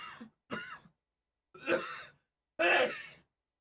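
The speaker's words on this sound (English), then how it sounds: "Cough into a sneeze." A few short throat-clearing coughs followed by a louder, explosive sneeze-like burst, close and alone with brief pauses between.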